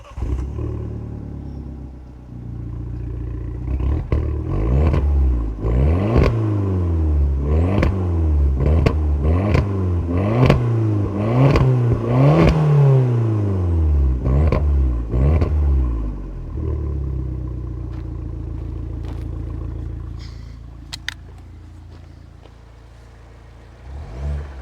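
Abarth Punto Evo fitted with a new turbo, its engine revving hard and close in a run of rising and falling surges that grow stronger, then easing back to a low idle rumble near the end.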